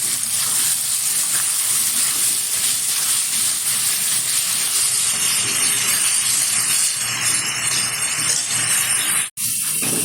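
Garlic and onion paste frying with potatoes in a pan for a Bengali chicken curry, a continuous loud sizzling hiss that runs steadily throughout and cuts out for an instant near the end.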